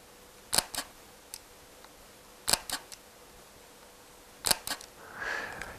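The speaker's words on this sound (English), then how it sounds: "I will give you an idea what the sound of the shutter is" Fujifilm X-T1 mirrorless camera with an XF lens firing its mechanical shutter three times at roughly two-second intervals, each a soft double click, quiet and close in a still room.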